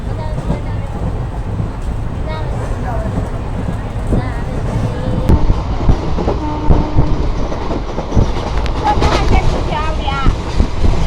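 A train rolls along with a steady rumble and rhythmic clattering of wheels on the tracks, loud and close, with voices talking over it.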